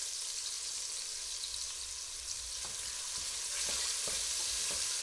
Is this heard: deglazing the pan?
yes